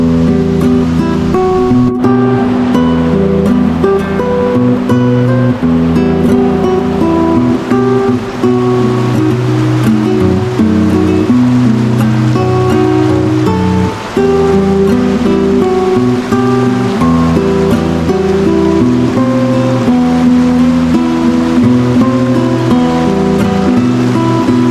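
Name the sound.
large river flowing under a small bridge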